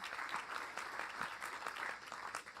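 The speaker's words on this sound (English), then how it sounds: "Y'all, we need to clap real loud for that." Faint, steady clapping from an audience at a press conference on bringing fertilizer production back to the United States, a continuous patter of applause heard from some distance.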